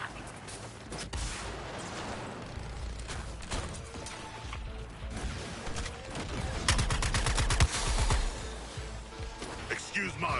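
Dense video game gunfire in a chaotic shooter battle, bursts of rapid automatic fire and booming blasts layered continuously, with a voice speaking over the din.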